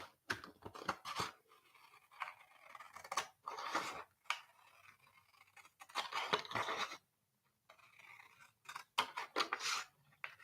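Scissors snip through a paper planner page in a series of close, crisp cuts, each a short burst separated by brief pauses, with a soft rustle of paper between them.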